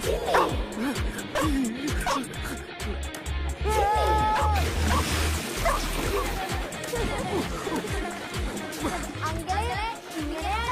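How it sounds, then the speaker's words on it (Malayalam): A dog drinking water barks and yips repeatedly, fairly close, mixed with splashing and a busy background while people talk over it. "പട്ടി വെള്ളം കുടിക്കുന്നത്."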